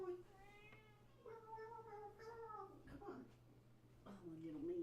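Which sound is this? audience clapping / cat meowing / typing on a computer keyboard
cat meowing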